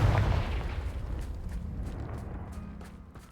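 A Confringo blasting-curse explosion in the Hogwarts Legacy video game: one loud booming burst right at the start, then a rumbling, gradually fading tail.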